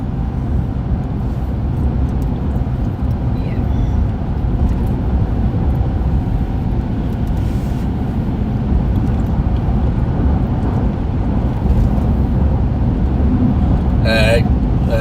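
Steady, loud interior road rumble from a car cruising on a Missouri highway, continuous throughout with faint talk underneath.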